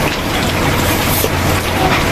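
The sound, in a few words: rain falling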